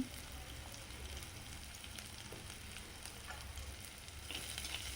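Drumstick leaves and onion sautéing in a pan for murungai keerai koottu: a soft, even sizzle that runs throughout and swells slightly toward the end, quiet, with no talking.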